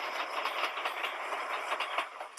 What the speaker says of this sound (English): Or do you hop on a subway train?